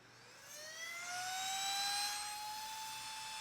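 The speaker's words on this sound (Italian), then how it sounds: "piccolissima, leggerissima ed è una pompa" A small, light portable electric air pump for inflating mattresses spins up with a rising whine, then settles into a steady high-pitched motor drone, quiet and close, with no talking.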